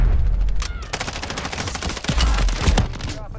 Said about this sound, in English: I shot the crap out of him and didn't do nothing.